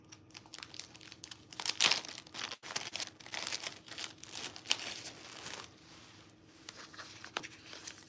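A wrapped and taped FedEx package being opened by hand, with close, fairly quiet crinkling, tearing and rustling of plastic and paper in uneven bursts, no one talking.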